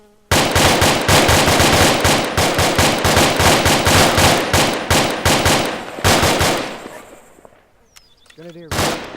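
Rapid bursts of automatic rifle and machine-gun fire during an infantry training exercise, loud, close cracks in quick rhythmic strings that stop after about seven seconds, followed by faint clatter and a brief distant shout.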